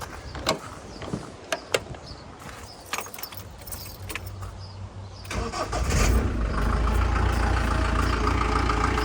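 A 1999 Ford Transit campervan engine cranks and catches, then settles into a steady low idle, preceded by some clicks and mechanical clunks nearby.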